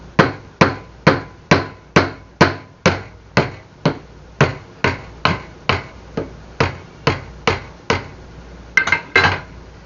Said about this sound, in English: what I can do is take my chisel here